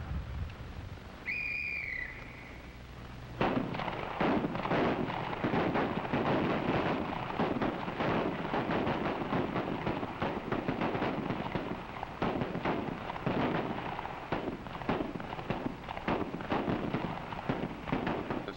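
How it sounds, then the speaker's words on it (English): A dense, continuous barrage of sharp shots and cracks at an FBI firing range, loud and overlapping, following a brief quiet whistle-like tone at the start. "The sound of gunfire echoes across the range through the day and into the night."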